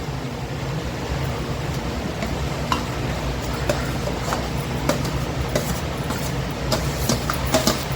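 A spoon scrapes and stirs chopped vegetables with capsicum for pav bhaji in a hot oiled pan, a steady dense sizzle with irregular clicks and scrapes of the utensil throughout, close and continuous without talk.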